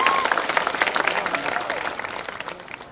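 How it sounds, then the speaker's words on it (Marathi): A crowd at an election campaign rally outside a temple in Malegaon bursts into dense clapping and applause that gradually tapers off, with voices mixed into the noise. "टाळ्या वाजवा त्यांच्यासाठी"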